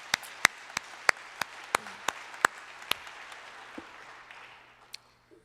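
Sparse, distinct claps at a church worship service, a dozen or so sharp hand claps in an uneven rhythm that trail off, with faint room tone and little else around them.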